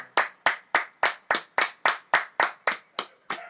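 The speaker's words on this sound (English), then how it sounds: "if we just clap, it's just a bit weird" Steady, evenly spaced hand claps, about a dozen sharp close strikes from one or two people, clapping for NHS front line workers during the coronavirus pandemic.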